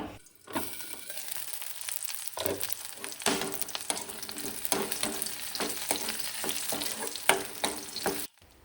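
Whole shallots fry in hot coconut oil for a bitter gourd pickle, giving a loud, steady crackling sizzle with repeated scraping stirs, close by and without voices.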